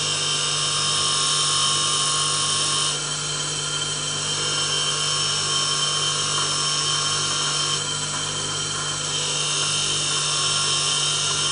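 A skew chisel is honed on a motorized honing wheel freshly dressed with green compound. It makes a loud, steady high-pitched whine with a constant motor hum, slight shifts in tone as the blade presses on, and no talking.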